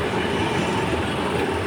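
The Alexandria Raml tram rumbles loudly and steadily from inside the car, with a continuous rattling, clattering wheel-on-rail roar and no talk.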